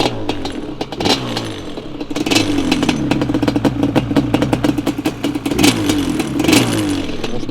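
A freshly rebuilt Yamaha Banshee 350 two-stroke engine idles and revs in short, restrained blips, a loud, close, crackling buzz with rhythmic clatter and no voices over it.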